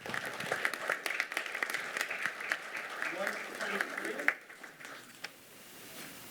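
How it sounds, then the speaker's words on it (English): An audience at a city council meeting gives a round of applause, steady clapping for about four seconds that fades into a few scattered claps, with talking underneath. "A nice round of applause again as we take a photograph."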